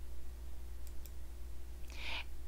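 A single soft click sounds faintly over a steady electrical hum, followed by a brief muffled rustle near the desk.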